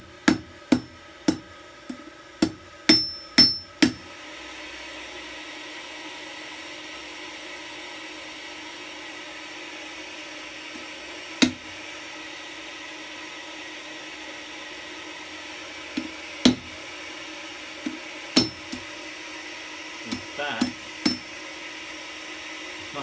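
Hammer blows on a rivet for a pair of homemade blacksmithing tongs: a quick run of about eight sharp metallic strikes at the start, then a long stretch of steady hiss broken by a few isolated taps.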